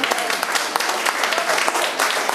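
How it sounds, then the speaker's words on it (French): Congregation applauding during a French-language church sermon, a dense, steady wash of many hands clapping close and loud for a couple of seconds without voices. "Est-ce qu'on peut applaudir le Seigneur Jésus?"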